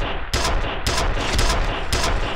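Loud, booming shotgun fire from the PC video game F.E.A.R., with several heavy blasts over a continuous rumbling din of shots.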